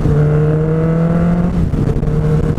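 A motorcycle engine revs loud and close, its deep throbbing tone holding steady before dipping and rising again in a brief second burst.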